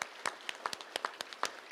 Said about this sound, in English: Let's give all of our terrific kids one final round of applause